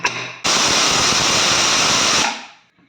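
A pressure cooker whistle: a loud, steady hiss of steam bursts out and holds for nearly two seconds before tapering away, close and sharp.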